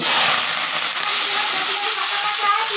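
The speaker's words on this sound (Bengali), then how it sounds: "তো এর মধ্যে আমি জিরে ফোড়ন দিয়ে দিলাম।" Cumin seeds tempering in hot oil in a karai give a loud, steady, close sizzling hiss that runs unbroken throughout.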